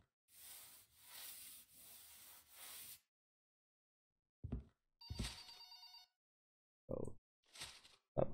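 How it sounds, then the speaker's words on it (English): A telephone rings in short bursts with quiet gaps between them, in a messy, trashed house being cleaned, preceded by a few seconds of scrubbing or rubbing noise. "Stop calling my phone."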